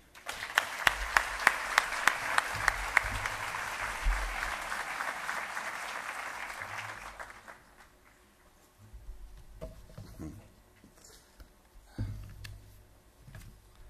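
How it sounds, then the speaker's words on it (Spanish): An audience at a business awards gala applauds with loud, dense clapping for several seconds, which dies away into scattered claps and murmuring room noise. "el presidente de FEDA, Artemio Pérez Alfaro, para que pida un aplauso"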